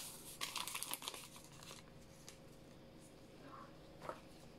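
A vanilla sugar sachet crinkles and rustles in a burst near the start, followed by quieter handling sounds and a brief rip-like crackle near the end as it tears open.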